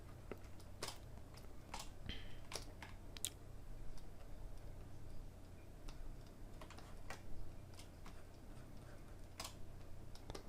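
Computer keyboard keys are pressed in scattered clicks and short bursts, quiet and close, with irregular pauses between taps while working in ZBrush sculpting software, with no voice over it.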